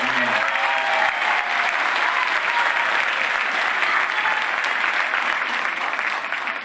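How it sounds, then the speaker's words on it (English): Audience applauding a middle school jazz band after its set at a school winter instrumental concert, a loud, continuous roar of many hands clapping, full and even for the whole stretch. "Round of applause, please."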